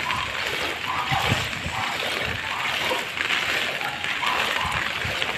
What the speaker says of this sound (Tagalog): Maulan pa din siya.